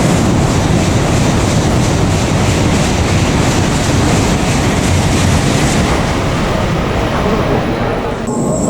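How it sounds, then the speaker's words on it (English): Shinkansen bullet train pulling into a station for a trip to Tokyo, a loud, steady rumble and rushing roar that fills the whole stretch with no talk. "our train that we're catching back to Tokyo arrived"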